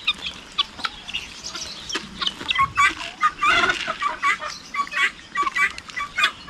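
Guinea fowl call noisily on a farm, a flock of sharp, repeated cackles and harsh clucks overlapping in bursts at close range.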